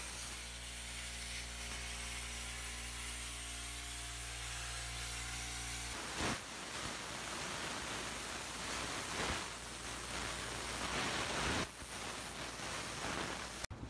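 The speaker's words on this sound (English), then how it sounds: "running a wire feed welder with flux-core wire instead of solid wire" Wire feed welder running flux-core wire, a steady crackling buzz that changes to irregular sputtering bursts partway through, with a low hum at the start.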